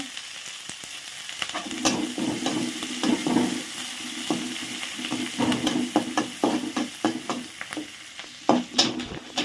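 Garlic sizzling and crackling as it fries in a pan for a pickle with fish, steady frying hiss with scattered pops and stirring clatter growing busier toward the end, close and alone with no voices.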